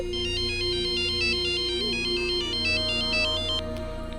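An incoming-call phone ringtone plays a repeating electronic melody, loud and close, for the whole stretch with no talk.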